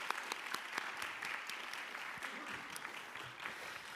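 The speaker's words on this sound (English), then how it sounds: "let's give them one more round of applause" An audience at a high school fine arts awards ceremony applauds a music quartet, a sustained burst of dense clapping filling the room.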